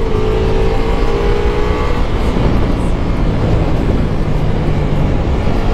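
A 2021 Ducati Multistrada V4S, a 170 hp motorcycle, ridden on a race track, its engine a loud, steady roar mixed with heavy wind buffeting, continuous and close throughout.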